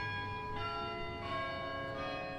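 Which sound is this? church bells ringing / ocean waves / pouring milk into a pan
church bells ringing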